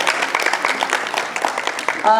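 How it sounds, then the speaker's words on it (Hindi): Audience at a stage play performance applauding the performers, a dense steady wash of many hands clapping, moderately loud and sustained throughout, with a voice faintly over it at the end. "आप सभी के लिए तालियां मेरे कलाकारों की तरफ से, जोरदार तालियां।"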